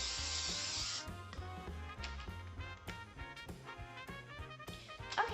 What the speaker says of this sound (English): We're going to spray it with some non-stick cooking spray.